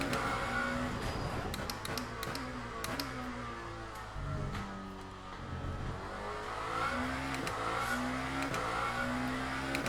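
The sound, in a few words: Lamborghini hypercar engine driving in Le Mans Ultimate video game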